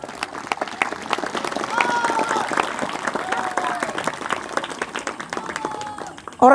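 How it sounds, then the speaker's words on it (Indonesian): An audience at a religious lecture breaks into clapping, a fairly close, uneven patter of hands with a few voices calling out over it. "Tepuk tangan untuk orang Madura."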